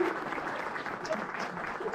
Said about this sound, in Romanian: Haideți, stați acolo să-i aplaudăm și pe câștigători